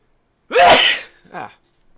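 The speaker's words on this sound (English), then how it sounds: "I got a sneeze coming on" A single loud sneeze bursts out, followed by a smaller, softer second sneeze, then silence.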